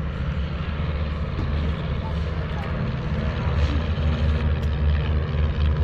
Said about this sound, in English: Typically, they have a four-cylinder air-cooled engine up front